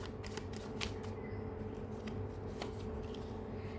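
Tarot cards being shuffled to draw a clarifier card, giving a steady soft papery riffling with a few brief sharper flicks, close and continuous with no talking.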